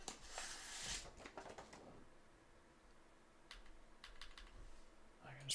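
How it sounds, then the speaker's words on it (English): Clicky keystrokes on a newly built 40% mechanical keyboard, a quick burst of close typing followed by sparser, scattered key presses in a quiet room. "Do an alphabet typing test just to confirm that all the letters are do what they're expected to do"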